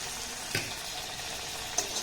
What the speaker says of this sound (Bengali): আমি কম তেলে একটা একটা পিঠে দিয়ে কিন্তু ভেজে নেব